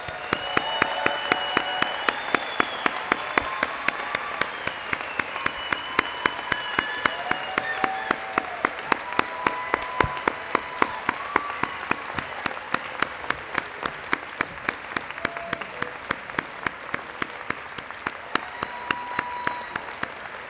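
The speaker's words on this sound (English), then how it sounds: "Let's all give our graduates a warm round of applause." An audience at a college psychology department commencement ceremony applauds its graduates with sustained, even clapping that goes on for about twenty seconds, with faint chatter and cheers underneath.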